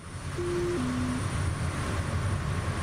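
Steady aircraft engine drone in Microsoft Flight Simulator 2024 near Lord Howe Island, Australia, holding an even, moderately loud hum throughout with a brief tonal whine early on and no talking.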